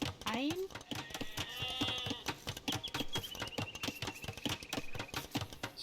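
Sheep bleat in Age of Empires 2 among farm livestock, several wavering calls rising over a busy, rhythmic game soundtrack with clattering effects.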